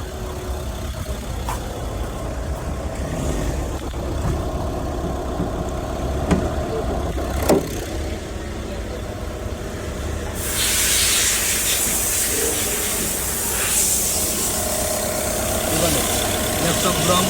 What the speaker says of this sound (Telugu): ఇంజన్ చూపిస్తాను.